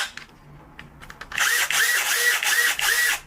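A hand-held electric drill with its shaft lock removed and its shell loosely fitted runs in low gear. After a quiet start with faint clicks, a loud, steady motor whine sets in and holds with a slight pulsing rhythm.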